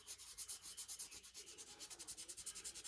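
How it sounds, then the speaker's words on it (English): An oily rag rubs surface rust off metal mold screws in a steady back-and-forth wiping rhythm, soft, close and continuous with no talking. "Just with a little of that oil on the rag, and that surface rust will wipe right off."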